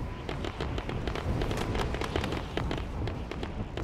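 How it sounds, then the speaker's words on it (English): Rapid gunfire rattles in the online shooter game Call of Duty: Warzone, a dense, irregular burst of sharp cracks and pops, some louder and nearer, continuing steadily throughout. "There's a lot of gunfire."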